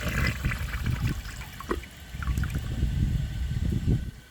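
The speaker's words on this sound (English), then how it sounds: "This toilet just clogged on a washcloth." A 1998 Eljer Savoy toilet flushing while clogged with a washcloth: close, gurgling rushes and sloshing water that swell and ebb without draining cleanly.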